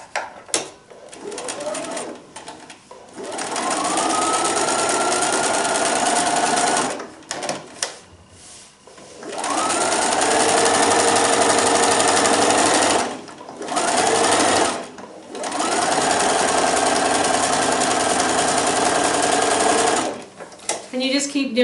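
A sewing machine quilts the layers of a table runner in long, loud, steady runs of rapid stitching, separated by short pauses while the fabric is turned.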